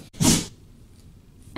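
A single short sneeze bursts out sharply near the start, followed by quiet room tone.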